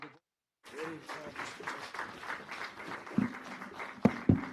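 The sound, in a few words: audience applause at a book launch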